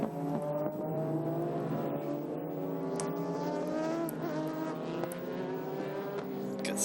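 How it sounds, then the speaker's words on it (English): A Ferrari F360 race car rejoins the track during a Super GT race at SUGO, its engine note climbing in a steady, moderately distant drone with rising harmonics, accompanied by faint crowd and circuit ambience. "Oh, the Ferrari goes off, the only Ferrari in the race."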